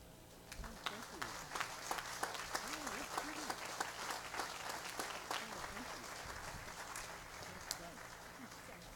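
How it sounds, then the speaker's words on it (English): Audience at a building dedication applauds in a steady, moderately loud wash of clapping with a few sharper claps, carrying on over a low hum and faint background voices. "Audience, won't you give them another round of applause?"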